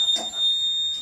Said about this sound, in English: That's the alarm system.